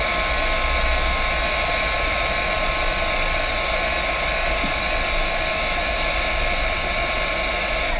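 A heat tool blows steadily and loudly throughout, a constant broadband hiss as it warms a piece of Friendly Plastic to make it tacky, with no talking.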